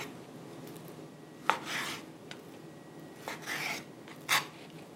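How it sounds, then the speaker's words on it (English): A knife cutting raw pork into small cubes on a board, giving a few separate soft rasping strokes over quiet room tone, close but faint. "I'm gonna cut these into 3/4-inch cubes"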